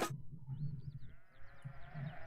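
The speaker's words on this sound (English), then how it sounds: "We're gonna put on sheep for you." Recorded sheep bleating, played back over a speaker, with a couple of wavering bleats over a low background hum.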